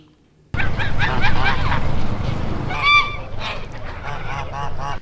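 Geese on pasture honk repeatedly and loudly close by, several birds calling over one another in a noisy, continuous flock chorus.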